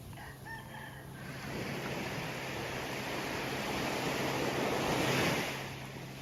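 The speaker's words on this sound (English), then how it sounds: "The rooster is announcing his presence." A rooster crows in the morning near Phra Ae Long Beach on Koh Lanta, Thailand. The short crow comes first, then gives way to a rising, steady rush of surf and wind.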